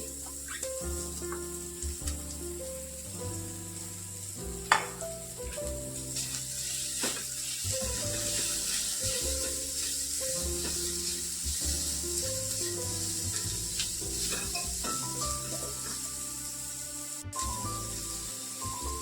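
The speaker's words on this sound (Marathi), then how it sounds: "तर कांदा मी इथं परतायला टाकलाय त्यात आपण चिमूटभर मीठ घालणार आहे" Finely chopped onion with a pinch of salt sautés in hot oil in a pan for bread patties, giving a steady soft sizzle under a low background of tonal hum, with a brief clatter partway through.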